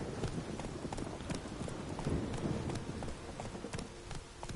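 The horse Roach's hooves clip-clop steadily in The Witcher 3, a continuous close trotting rhythm over a wash of rain-like ambience.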